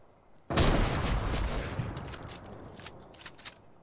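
A single heavy sniper shot in Fortnite booms out sharply and loud, with a long rumbling echo that trails off over several seconds while faint game sounds ticker in the background.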